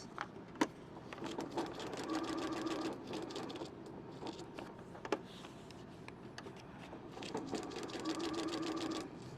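A sewing machine stitches along lines, corners and curves in steady mechanical runs, the motor hum and rapid needle clatter near and continuous, with a few brief sharp clicks and slight changes in pace.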